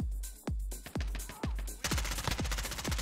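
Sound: gunfire in a battlefield video game

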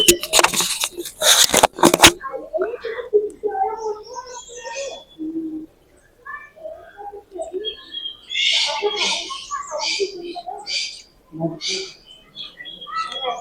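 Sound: various birds calling in a bird park

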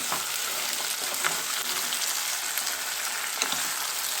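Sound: brinjal frying in oil

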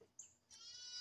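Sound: goats bleating in a farm pen

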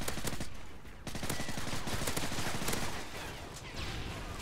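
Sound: gunfire in video game Call of Duty Modern Warfare 3

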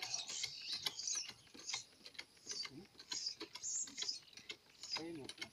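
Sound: sprayer pumping while spraying cows against ticks

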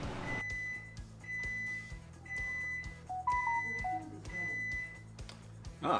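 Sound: Amazon Smart Oven beep signalling cookies are done

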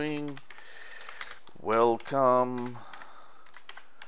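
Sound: typing on a computer keyboard

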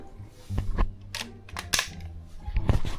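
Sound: toy gun from Temu being fired

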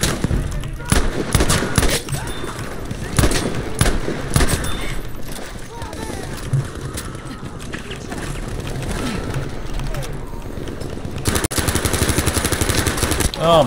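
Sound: gunfire in video game Battlefield V

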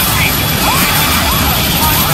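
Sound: failing helicopter engine, from video game Outlast 2

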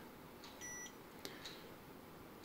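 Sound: pure sine inverter low-voltage warning beep

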